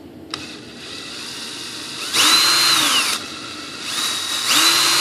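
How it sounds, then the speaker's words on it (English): A power drill bores a hole in a plastic model of an Airbus A380 inboard main landing gear, whirring up in two loud, close bursts, each about a second long, over a low background hum. "Then we're going to drill a hole."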